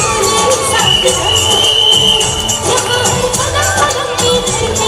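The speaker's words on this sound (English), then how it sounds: "Please cheer them up." An audience at a school annual day cheering steadily, a loud dense crowd roar with shrill children's shouts running throughout.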